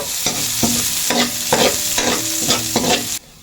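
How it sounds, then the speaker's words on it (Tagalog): Onions sautéed in a pan for pancit canton guisado, loud close sizzling with repeated rhythmic spatula scrapes and stirs, ending abruptly as the frying noise drops away. "Yan, at ilalagay na po yung sibuyas."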